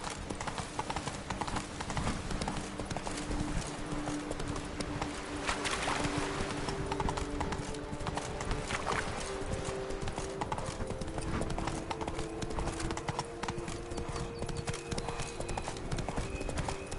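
Roach the horse gallops in The Witcher 3, steady rapid hoofbeats running continuously over game ambience and a faint low drone, fairly close and sustained throughout.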